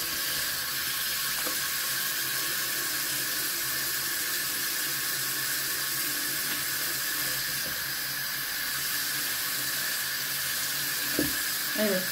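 Water runs from a tap in a steady, loud hiss as the sink fills with cool water for washing a silk scarf, with a brief clink near the end.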